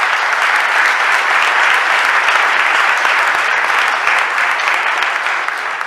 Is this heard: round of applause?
yes